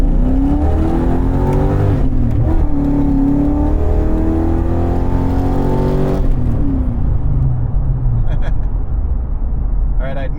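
A Ford Mustang with an aftermarket exhaust revs hard and accelerates along a road, engine note climbing through gears loud and close, dropping off near the end, with a voice talking over it.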